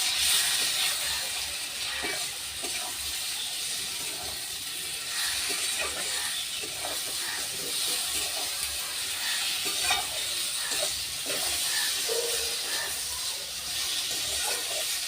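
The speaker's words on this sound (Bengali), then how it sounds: "এবার সব কিছু আমি ভালো করে কষিয়ে নেব।" Fish curry masala sautés in a pan, giving a continuous soft sizzle with frequent scraping and clattering stirs, fairly quiet and close throughout.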